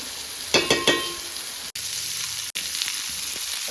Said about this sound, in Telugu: ఉల్లిపాయలు పచ్చిమిర్చి టమాటోస్ ఇవన్నీ బాగా ఉడికిపోవాలండి ఫ్రై అవ్వాలి